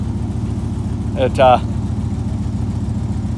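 A 1995 Dodge Ram V8 idles steadily on a cold 35-degree morning, a low even rumble running throughout while someone speaks briefly over it.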